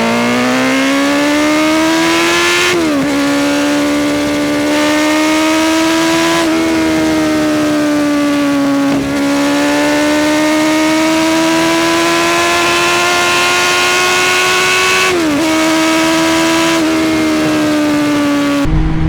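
A Yamaha Fazer 600 S motorcycle engine revs hard in second gear to 7000 rpm, climbing in pitch, a loud close drone, with brief dips as it shifts and pulls again.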